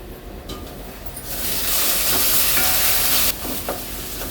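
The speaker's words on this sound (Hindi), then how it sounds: "अभी और गलेगा, इसलिए हम और भूजेंगे इसे मसाले को।" Tomatoes and spices fry in a pan with a steady hiss and sizzle that swells louder midway, while a spoon stirs and scrapes through the mixture; no one speaks.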